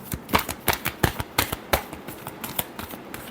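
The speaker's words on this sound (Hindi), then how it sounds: "Last shuffle." A deck of tarot cards is shuffled up close, giving a series of crisp papery riffles and slaps in an uneven rhythm, with no talking over it.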